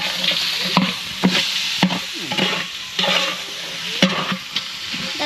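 Chicken sautés in a pot over a village picnic cooking fire, a loud crackling sizzle punctuated by repeated sharp scrapes and knocks as a ladle turns the meat.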